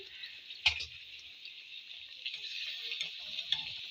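Spinach luchi frying in hot mustard oil, a steady bright sizzle throughout with a sharp pop or clatter near the start and small bubbling crackles, close and fairly quiet, with no talk.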